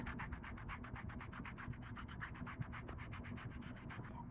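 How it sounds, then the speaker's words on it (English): Pedicure foot file rubbing across the skin of a foot after cuticle work, a steady run of quick, even back-and-forth scraping strokes, close and soft, with no talking. "after doing cuticle work, you want to do a little bit of foot filing"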